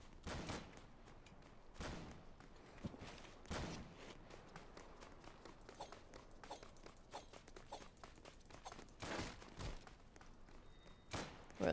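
An MG42 machine gun in a Roblox game fires in quiet, sharp bursts of rapid shots spaced apart by short pauses, with no voices.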